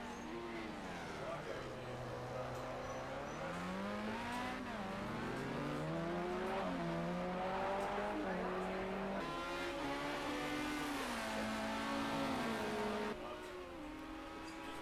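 A race car at Spa comes down the straight on a pit out lap. The engine note is loud and continuous and climbs and shifts through the gears, with commentary audible over it.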